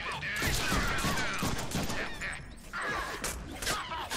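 Gunfire in the 2013 Deadpool video game comes as bursts of shots and smashing impacts inside a house, loud and busy with layered action sounds.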